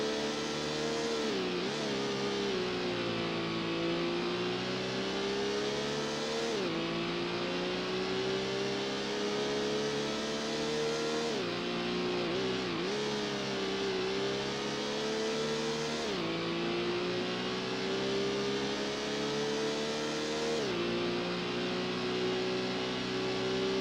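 A race car in Gran Turismo held at full throttle, its engine droning steadily at high revs with brief dips and climbs through gear changes, loud and continuous with no talking.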